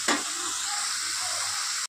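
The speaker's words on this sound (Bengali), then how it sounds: "এবার এইটা একটু ভাজা ভাজা করে নেবো, আদা রসুনের কাঁচা গন্ধটা যতক্ষণ না চলে যায়।" Ginger garlic paste hitting hot oil in a pan for rajma curry, a sharp close sizzle that bursts at once and holds as a steady hiss with faint stirring, then cuts off.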